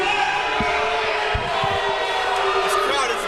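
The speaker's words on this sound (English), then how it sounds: "This crowd is not letting Ripper Blacker have a moment." A wrestling event crowd shouts and cheers continuously throughout, a loud, dense roar of voices with scattered whoops rising above it.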